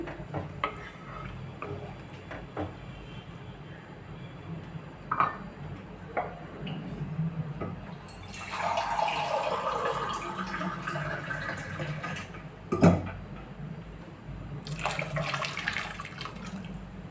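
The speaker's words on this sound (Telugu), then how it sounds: "నేనైతే ఈ గ్లాస్ వాటర్ యాడ్ చేసిన." A glass of water is poured into simmering rajma masala curry of kidney beans, making a rushing splash-and-gurgle that lasts a few seconds midway, with quieter kitchen clinks around it.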